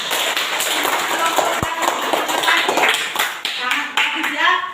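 Classroom applause during a lesson, steady clapping from a group of students after a rice group presents its discussion results, with children's voices chattering over it.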